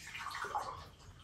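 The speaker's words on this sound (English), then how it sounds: "Now let's pour a cup of Joe" A cup of coffee being poured, a short soft liquid stream splashing into the cup, faint and close.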